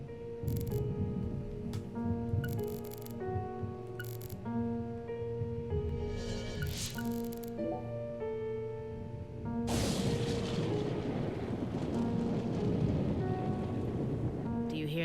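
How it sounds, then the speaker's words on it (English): Thunder and rain in the video game Deadly Premonition 2, set in Massachusetts: steady musical tones at first, then a heavy, roaring wash of rain with low rumbling swells up through the second half. "Do you hear that thunder?"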